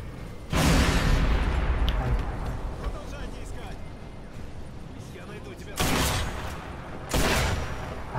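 A gas cylinder blows up in Sniper Elite V2 Remastered with a heavy, close boom that rumbles on, followed by two more sharp blasts, while someone talks throughout.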